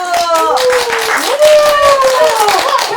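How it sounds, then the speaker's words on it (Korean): Children at a local children's center clap together after a classroom bingo game, a loud burst of quick, uneven handclaps with voices chattering and calling over them. "빙고 게임에 참여해준 여러분한테 다 수고했다고 같이 박수 한번 하겠습니다"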